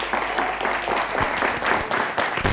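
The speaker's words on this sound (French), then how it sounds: "les applaudissements s'il vous plaît" Studio audience applause greets players being introduced on a French-language TV show, a few seconds of steady clapping with some sharper individual claps and thumps near the end.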